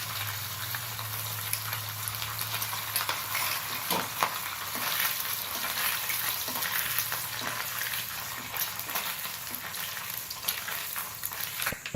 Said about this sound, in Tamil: பன்னீர் ஆயிலில் போட்டு ஃப்ரை பண்ணியாச்சு